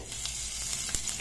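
Whole cumin seeds sizzle steadily in hot sunflower oil in a kadai, a close, continuous crackling hiss with a few sharper pops, no voices.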